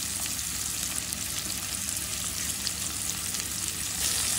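Onion, green chili and tomato frying together in hot oil with salt, giving a steady, close, continuous sizzle and crackle throughout with no voices.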